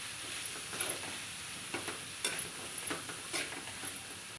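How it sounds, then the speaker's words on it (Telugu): Chopped onion and capsicum frying in a pan for capsicum rice, with a steady quiet sizzle and a few soft scrapes of stirring at intervals. "ఫ్రై అవుతుంది."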